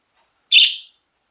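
Mango, a pet bird, gives one sharp, bright chirp up close, loud and brief against otherwise silent surroundings.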